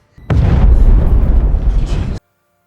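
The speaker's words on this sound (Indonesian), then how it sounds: "Ledakan besar memicu evakuasi darurat" A large explosion in a film: a sudden, heavy, booming blast with a rumbling, crackling tail that holds for about two seconds and then cuts off abruptly into silence.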